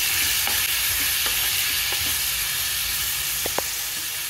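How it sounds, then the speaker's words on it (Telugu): Grated papaya fries in hot ghee for halwa, a dense continuous sizzle with a few light scraping stirs and a small clink near the end. "ఈ నెయ్యి కాగిన తర్వాత ఇందులో బొప్పాయి తురుము వేసేసుకుందాం."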